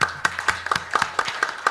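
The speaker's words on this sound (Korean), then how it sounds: "박수 한번 주시죠" Scattered applause from a small audience at a 2015 STEPI international symposium panel discussion, a handful of separate, fairly sharp claps in loose, irregular rhythm, close and sparse rather than a full ovation.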